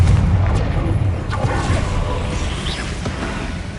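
A Confringo spell blast in Hogwarts Legacy booms loudly with deep rumbling impacts and whooshes, followed by a fading low roar of the explosion.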